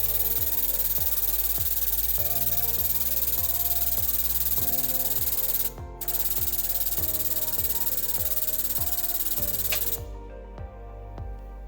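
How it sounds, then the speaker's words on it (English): A hydraulic or arbor press pushes a gear shaft out of a bearing in a Ranger drivetrain rebuild, giving steady loud grinding and rubbing with rhythmic repeating strokes, a brief drop near the middle and a quieter tail at the end. "we're going to take this assembly back over to our press so we can press that shaft out of the bearing"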